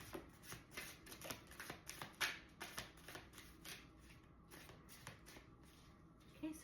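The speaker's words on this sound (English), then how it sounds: "So I'm going to pull a few oracle cards to see what comes out" Oracle cards being shuffled by hand, a quiet run of repeated soft riffling and slapping bursts in an irregular rhythm, close and alone with no talk.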